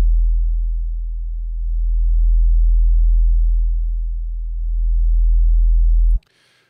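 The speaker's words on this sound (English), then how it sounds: "That is my Coltman sub preset." A sub bass synth preset in Native Instruments Massive drones as a steady, deep low tone with slow swells in loudness for about six seconds, then cuts off abruptly into near silence.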